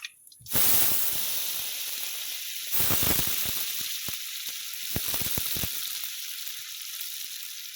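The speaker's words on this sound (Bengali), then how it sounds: "ভিজিয়ে রাখা মটরের ডাল ওটা আমি এখন তেলের মধ্যে দিয়ে দেবো" Soaked pea lentils hit hot oil already tempered with bay leaf, dried chili and cumin, breaking into a loud, steady sizzle that keeps crackling with bursts of stirring and spatter.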